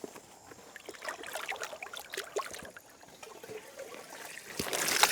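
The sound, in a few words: water being poured into compost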